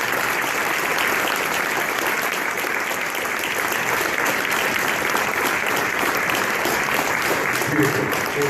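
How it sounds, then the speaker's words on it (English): Sustained audience applause from a standing crowd at a recovery meeting fills the whole stretch, dense and steady at a fairly loud level with no pauses. "give these people a round of applause."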